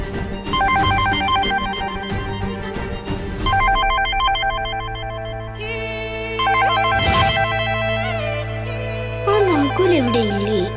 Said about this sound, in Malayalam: അയാളുടെ ഫോണിൽ റിംഗ് ചെയ്യുന്നത്